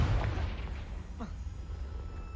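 A fiery Confringo spell blast in the Hogwarts Legacy video game lands as a short, deep boom right at the start, then fades into lower game ambience.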